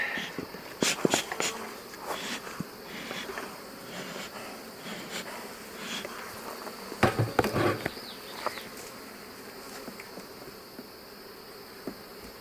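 Honey bees buzz steadily around swarm cells in a hive, a close, continuous drone with louder passes of individual bees flying near, alone without talk.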